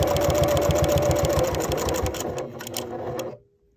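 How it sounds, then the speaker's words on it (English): A sewing machine runs at a fast, even stitching rhythm through denim jeans for a pocket purse, loud and close, then slows and stops near the end, leaving silence. "And I'm going to sew to this corner, sewing between that double stitching."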